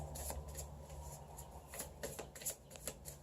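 Oracle cards shuffle quietly close by in a run of soft, papery riffles and light slaps, an uneven rhythm of brief bursts with nobody speaking.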